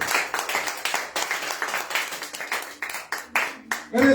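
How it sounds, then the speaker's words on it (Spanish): A church congregation claps during a Spanish-language sermon, a lively run of overlapping hand claps in quick bursts, fairly close and loud, with a voice breaking in at the very end. "Dale un aplauso al Espíritu Santo."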